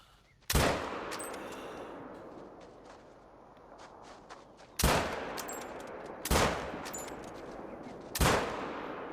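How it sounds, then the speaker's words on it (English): Four sharp rifle shots fired at a running buck in theHunter: Call of the Wild, each a loud crack with a ringing tail, the first alone, then three more spaced about two seconds apart. "that last shot did him in"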